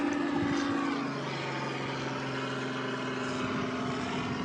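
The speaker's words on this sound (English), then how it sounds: "Oh, there's a helicopter." A helicopter passes overhead outdoors on a sunny day, its steady rotor and engine drone loud and continuous for the whole stretch with no talking.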